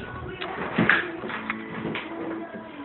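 A pigeon or dove cooing indoors, soft low throaty coos repeating over a few seconds, close but not loud, with faint household sounds around.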